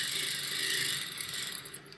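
A sewing machine stitches a kanchli blouse in a steady, close, loud run of rapid mechanical ticking that slows and fades near the end, with no voices.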